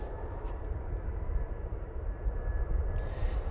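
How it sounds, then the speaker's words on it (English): A Ryanair jet arriving from Copenhagen at Manchester Airport gives a low, distant engine rumble that holds steady without any voices. "We have an arrival, but it's just the Ryanair from Copenhagen."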